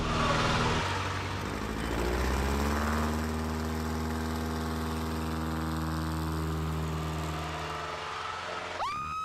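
Red Bull aerobatic plane's engine running on the Burj Al Arab helipad before takeoff: a steady, loud, droning hum that holds throughout, then sharply rises in pitch near the end as the engine revs up.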